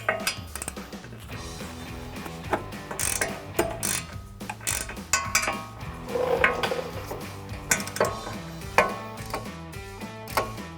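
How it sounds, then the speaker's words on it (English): Ratchet tightening the rear wheel bearing bolts on a 2015-2025 Ford Mustang, with bursts of quick mechanical clicking at close range over a steady background music bed. "now I'm just gonna grab my ratchet again, get back in there, tighten them the rest of the way down in a crossing pattern"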